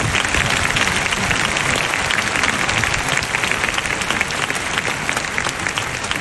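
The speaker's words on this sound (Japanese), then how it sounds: "川添恵子代表に今一度大きな拍手お願いします" A large crowd at an outdoor mass rally in Hibiya Park, Tokyo, applauds for a speaker in a dense, loud, sustained wash of clapping that holds steady from start to finish.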